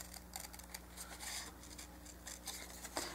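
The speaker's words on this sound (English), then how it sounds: "You'll always get a better cut if you move the paper and not your scissors." Scissors snipping through paper while a garden set is cut out, a steady run of close, crisp rasping cuts with a sharper snip near the end.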